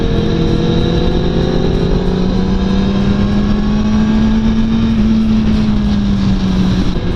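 Yamaha MT-10 cross-plane engine with a Pipe Werx exhaust holding a loud, steady idle-to-midrange drone up close, pitch rising gently and then easing back, with no voices over it.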